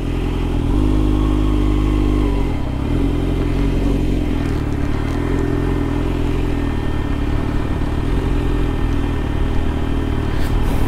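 A Suzuki GSX-R 750 sport motorcycle being ridden, its engine droning loud and close with steady rumble, slight pitch shifts and wind noise throughout, no voices.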